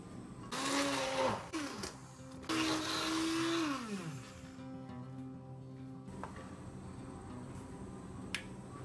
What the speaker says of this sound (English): I use this immersion blender all the time.